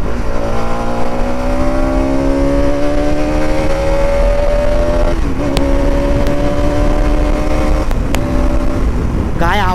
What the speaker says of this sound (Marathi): एक्झॉस्ट साऊंड कडाक एकदम खतरनाक